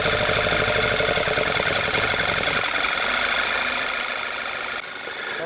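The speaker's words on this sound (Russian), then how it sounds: "Двигатель начинает троить и еле-еле вот-вот заглохнет." A car engine misfiring at idle because of an air leak, running rough and uneven as if about to stall, a steady loud close drone with no voices.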